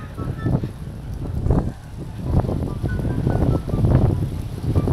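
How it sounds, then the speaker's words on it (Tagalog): Strong wind gusts outdoors in Canada buffet the microphone with steady, heavy low rumbling that swells and dips over several seconds, with no clear voices. "Sobrang lakas ng hangin"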